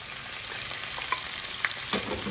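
Pork chorizo fries in oil in a pan with a steady, close sizzle and a few sharp pops and crackles scattered through it. No one speaks.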